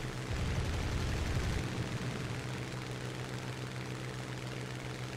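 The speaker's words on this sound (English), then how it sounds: "There's so many planes just circling him." Propeller warplanes in a flight-simulator battle drone loudly and steadily, a dense engine roar with a deeper rumble in the first seconds that eases off, continuous throughout.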